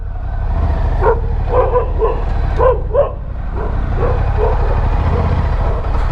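Several dogs barking in a leafy residential villa colony, a burst of clustered barks and yips under a constant low engine drone, moderately near.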